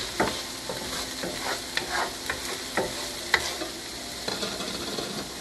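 Tofu scramble sautés in a covered pan, a quiet steady sizzle punctuated by light scraping stirs and occasional clicks of the spatula, close and soft.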